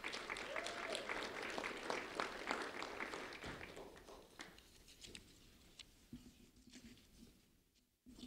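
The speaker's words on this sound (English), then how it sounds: "Joshua Ramos, a round of applause for Joshua Ramos, please." An audience applauds at a local sheriff's office recognition event for a seventh-grade student, the dense clapping sustained for about four seconds before thinning into scattered claps and fading out.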